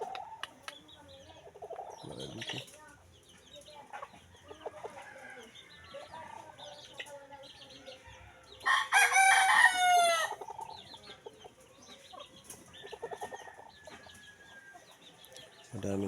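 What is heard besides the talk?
chickens clucking and rooster crowing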